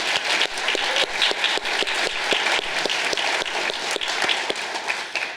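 Audience applause for sponsors at a community foundation annual meeting, dense sustained clapping from a large crowd, loud and continuous with no voices over it.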